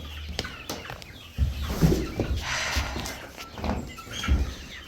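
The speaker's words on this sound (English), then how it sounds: "This is our very first rooster." A family's first rooster, named Leisure Suit Larry, gives low clucking calls close by amid rustling and shuffling movement, with a few scattered soft sounds.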